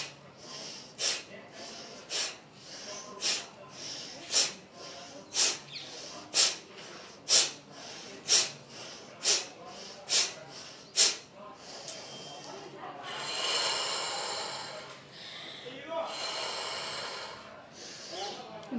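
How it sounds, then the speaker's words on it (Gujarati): Bhastrika pranayama breathing: about eleven sharp, forceful nasal exhalations come in an even rhythm, followed by longer, softer rushing breaths, all close and alone. "આપણે બે બે સ્ટ્રોક મારશું ભસ્ત્રિકા પ્રાણાયામના"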